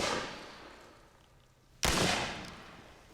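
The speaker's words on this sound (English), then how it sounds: "The Grinders heard 2 gunshots." Two sharp gunshots ring out, one at the start and another just after midway, each followed by a long, fading echoing tail.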